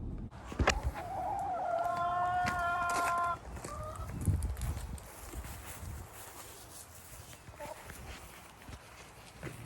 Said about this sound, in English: My chickens are happy